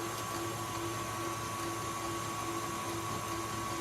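Electric stand mixer whipping Swiss meringue buttercream at a higher speed, giving a steady, even motor whine and whirring hum that holds without a break, with no talking.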